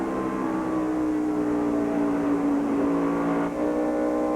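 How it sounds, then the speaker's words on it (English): NASCAR stock cars roar around Charlotte Motor Speedway during the 1996 Coca-Cola 600, a steady, loud engine drone with a sustained pitch and no break, heard at a distance. "That is Hut Strickland coming right in behind the Budweiser car, getting straight."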